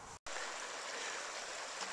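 Gallatin River stream in Yellowstone in spring, a steady close rush of flowing water with a brief cut near the start.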